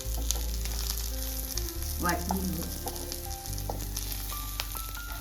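Onion frying in a pan for stuffed brinjal, a steady close sizzle with occasional clinks, while a person speaks briefly partway through.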